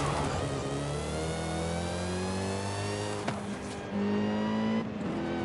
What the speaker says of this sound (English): Hear the whine of the supercharger?